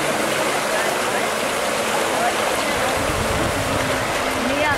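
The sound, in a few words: flowing water of a lazy river stream at water slides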